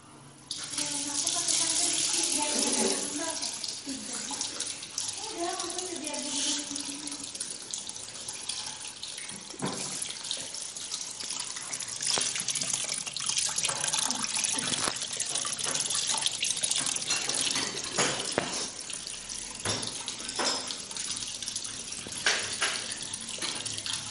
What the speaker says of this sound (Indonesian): Cuci kentang sampai bersih.